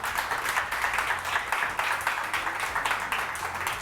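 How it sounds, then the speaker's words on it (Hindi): A studio audience on a morning TV show claps in uneven, pulsing waves, a fairly close and steady patter of many hands. "मेरे मुसव्विर भाई के लिए बहुत सारी तालियां"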